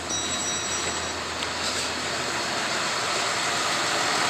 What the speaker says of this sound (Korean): 엔진 소리도 좋고요.